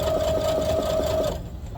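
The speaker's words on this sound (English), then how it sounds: "then we will start doing a straight stitch all the way down, lining up our presser foot with the edge of your fabric" A sewing machine runs a straight stitch across fabric for a harvest apron, with a steady, loud, fast rhythmic whir that stops just before the end.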